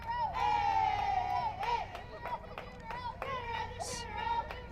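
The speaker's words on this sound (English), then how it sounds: "The Cougarettes continue to chant and cheer as they lead 5-0" A softball team's players chant and cheer together in rhythmic, sung phrases from the dugout during a high school game, steady and moderately close, with occasional claps mixed in.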